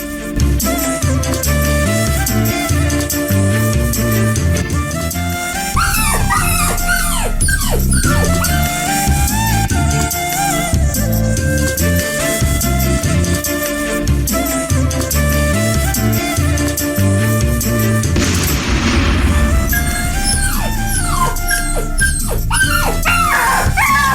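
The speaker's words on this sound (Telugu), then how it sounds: "ఊర్లో కుక్కలు గోలు ఎక్కువైపోయిందిరా." Dogs in a village bark, yip and whimper loudly and almost continuously, in overlapping bursts against a dense, busy background.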